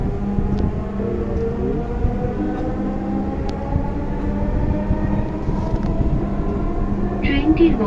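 A Dhaka metro train pulls away from a station, with a steady low rumble and hum of rail motion throughout. A door chime and speech sound over it.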